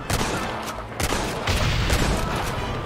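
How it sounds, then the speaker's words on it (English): Rapid bursts of gunfire in a Red Dead Redemption shootout near a cliff, several sharp close shots and booming reports overlapping in a dense fusillade, with shouting voices mixed in. "You're shooting down on us!"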